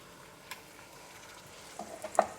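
Quiet sizzle of flatbread cakes frying in an old frying pan, with a few faint taps and a sharper knock near the end, close up and without talk.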